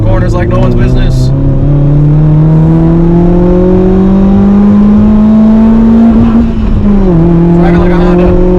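A Honda GD3 with a newly replaced clutch drives and accelerates hard, its engine note climbing steadily in pitch, easing off briefly and then pulling again, loud and close from inside the car.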